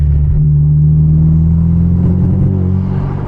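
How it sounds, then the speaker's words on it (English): A modified car with a Boosted 2.0 turbo engine runs at around 3000 RPM, giving a loud, steady low engine drone close up with a slight uneven stutter and no voices. "right around 3k RPM, that's where it wants to like stutter"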